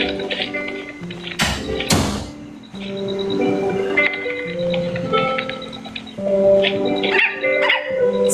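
A dog-bark sound effect plays during a TikTok live stream, with repeated sharp yips and barks over layered music and effect noise, loud and close.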